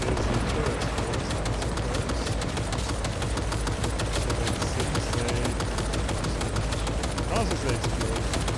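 Turrets fire in Cyberpunk 2077, a dense, continuous rattle of rapid automatic shots, loud and steady for the whole stretch with crackling impacts underneath.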